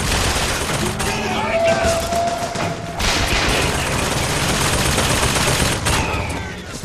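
Enemy gunfire rattles through a BioShock Infinite firefight in sustained, dense bursts with a few sharper cracks, loud and continuous throughout, with a player's voice talking over it.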